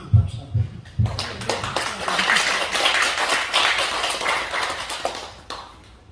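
An audience at a lecture applauding for a teacher, a few scattered claps at first that swell into steady applause from a roomful of people and then taper off.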